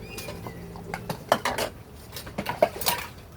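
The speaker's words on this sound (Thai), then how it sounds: "มาช่วยกันล้างชาม" Bowls and dishes being washed by hand, with irregular clinks and clatters of ceramic and cutlery knocking together close by amid soft splashing.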